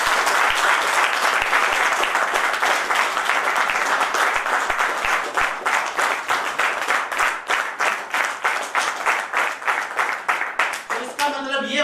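A large audience claps loudly and steadily for around eleven seconds at a live talk, with the applause thinning out near the end as a voice comes in.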